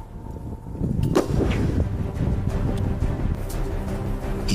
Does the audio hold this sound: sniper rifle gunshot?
yes